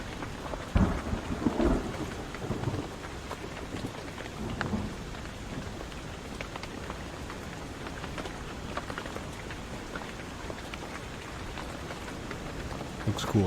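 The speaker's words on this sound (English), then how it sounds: "Rain sounds are intensifying." Steady video-game rain patters loudly with deep rolls of thunder rumbling early on, continuous and enveloping, no voices.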